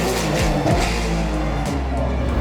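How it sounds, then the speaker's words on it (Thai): Loud, steady race car engine roar with pitch sweeps rising and falling as cars speed past at close range, at Bang Saen. "เสียงเครื่องยนต์"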